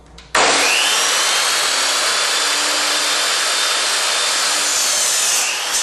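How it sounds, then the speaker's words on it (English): A power saw starts abruptly and cuts through a 2x4 length of lumber for a garage workbench, a loud, sustained, close whining rasp that holds steady for several seconds and then eases slightly at the end. "Next I'm going to cut two lengths of 21-inch"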